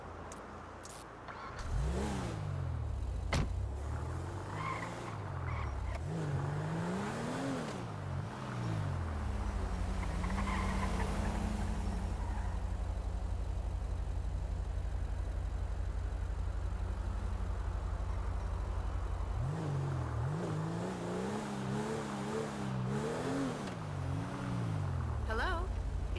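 A car driven in a video game, its engine revving up and down in repeated surges, then holding a steady drone before climbing through more revs, with occasional talk over it.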